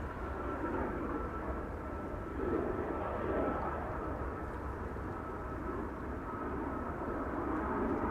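A jet engine spools up at Amsterdam Schiphol Airport, a broad, steady distant rumbling roar carried on the wind under a low overcast ceiling, holding level throughout with slight swells.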